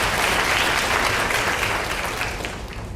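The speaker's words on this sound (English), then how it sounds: "Let's give these students a round of applause" An audience applauds students at a high school senior awards ceremony, with steady, dense clapping from a large crowd that begins to thin and fade toward the end.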